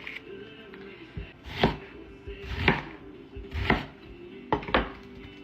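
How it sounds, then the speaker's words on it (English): Onions are chopped into quarters with a knife, about five sharp, distinct thunks on a cutting board spaced roughly a second apart, close by and alone. "I'm gonna just chop my onions into quarters and put them in the bottom of this pan"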